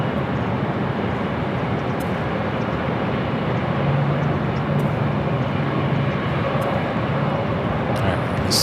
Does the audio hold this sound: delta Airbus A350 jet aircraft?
yes